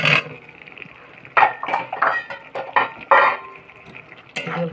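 Fried potatoes tipped into a pan of hot spiced oil, a run of clattering scrapes and sizzling bursts with utensil knocks, close and fairly loud, with no talking.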